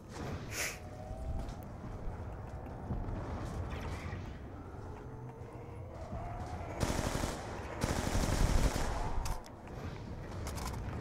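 Bursts of fire from the player's gun in Call of Duty Zombies on the Die Rise map, rapid and fairly loud, with mechanical clanks and other game noise between volleys.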